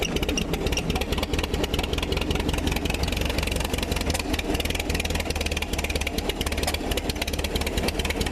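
Late model race car engine with a dirty carburetor idling roughly, a steady, loud mid-to-low rumble that runs unbroken and alone for the whole stretch.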